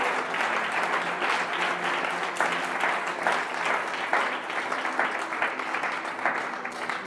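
Sustained applause from a church congregation during a sermon, steady broadband clapping that holds loud and dense for several seconds without pause.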